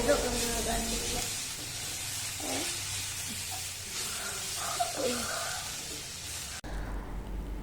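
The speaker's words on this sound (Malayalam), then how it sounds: "ഇനി നമ്മൾ ഇതിൻ്റെ പച്ചമണം മാറുന്നവരെ ഇതൊന്ന് വഴറ്റി കൊടുക്കണം." Crushed ginger, garlic and green chilli sauté in a pan with a soft, steady sizzle and occasional stirring scrapes, heard close up under a speaking voice, ending abruptly near the close.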